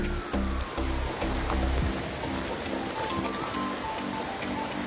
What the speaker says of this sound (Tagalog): Hindi pa tumitigil ang ulan.